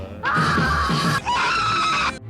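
A man screams in fright, letting out two long, loud, close cries separated by a brief break.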